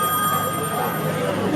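A mobile phone rings with a steady, loud electronic ringtone that holds its pitch throughout, with voices talking faintly underneath, during a comedy scene at Tanah Lot.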